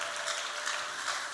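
Congregation clapping at a church sermon by Bishop Samvura John, a steady dense wash of applause filling the short moment at even loudness with no pauses.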